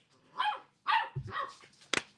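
A new, hyperactive puppy gives several short yips and barks, fairly close and moderately loud, spaced unevenly with a sharp click or knock near the end.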